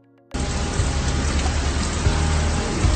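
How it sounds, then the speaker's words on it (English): Heavy rain in a TV drama scene where a woman stops her car outside a gate, bursting in suddenly after a brief quiet start, then a loud, dense, steady downpour roar. "Pumla, played by Nambitha Pumlana, stops her car outside her gate in a heavy rain"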